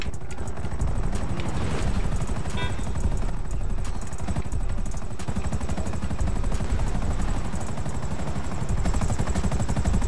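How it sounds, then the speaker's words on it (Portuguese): A helicopter's rotor thumps rapidly and steadily throughout, loud and close, with a dense mechanical whine layered over it, in the video game GTA roleplay. "Helicóptero aqui."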